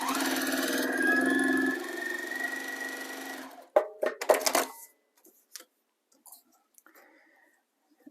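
A sewing machine stitching fabric for a foundation paper-pieced zipper pouch runs in a continuous whirring burst for about three and a half seconds, then stops, followed by clicks and handling sounds that fade into near silence.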